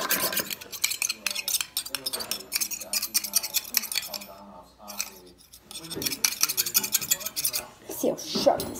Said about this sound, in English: First, sharpen your knife in the 4x4 sharpener.